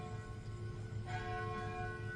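Church bells ringing on a morning outdoors, sustained tolling tones swelling partway through, moderately distant and steady with no voices.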